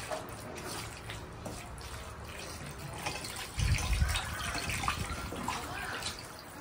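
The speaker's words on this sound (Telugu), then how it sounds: "ఒక లీటర్ వాటర్ పోసుకుందాం." About a litre of water splashes into a cooking pot for mutton head curry, a soft pouring wash that swells into a fuller gush midway before easing off.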